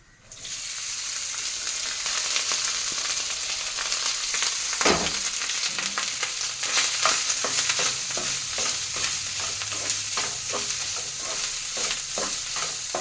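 Spices and salt sizzle steadily in a pan before rice goes in, a dense continuous frying hiss broken by repeated scraping stirs and one sharp clatter near the middle, with no talking.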